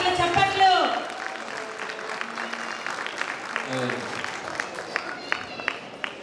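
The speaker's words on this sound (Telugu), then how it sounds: "చప్పట్లు చప్పట్లు." Audience applause at an Ugadi celebration in New Jersey, a crowd clapping steadily in a hall, with voices and crowd noise mixed in and a brief louder swell near the start.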